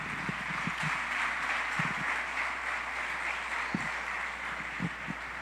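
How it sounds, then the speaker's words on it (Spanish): Church congregation applauding at a worship service, a steady hiss of many hands at moderate distance with occasional sharper individual claps standing out. "Denle ese fuerte aplauso al Señor"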